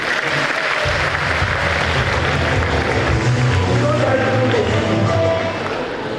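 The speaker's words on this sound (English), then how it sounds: "Round of applause, please." A crowd applauds loudly and steadily for several seconds, dense clapping that fades slightly at the end.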